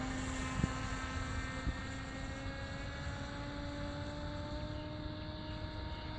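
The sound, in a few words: RC fixed-wing aircraft flying past on full throttle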